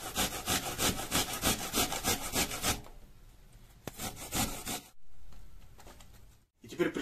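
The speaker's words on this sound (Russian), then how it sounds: "Берем несколько яблок и натираем их на крупной терке прямо в емкость" Apples are rubbed against a coarse grater, producing quick rhythmic scraping strokes that are close and fairly loud at first. The grating then pauses, returns briefly, and fades into quieter handling noise.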